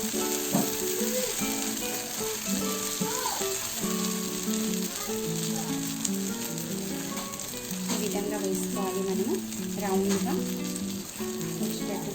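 Vegetable rice appam batter frying in oil in a pan, a continuous close sizzle with occasional light stirring sounds and faint tonal background noise.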